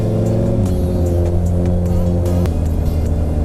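A 2008 Suzuki Hayabusa motorcycle engine drones steadily during a ride, loud and close with a shift in pitch partway through and rushing wind noise.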